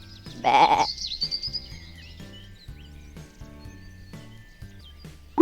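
A single loud sheep bleat from an animated farm-animals lesson comes right at the start, followed by a few seconds of quiet background with faint scattered sounds.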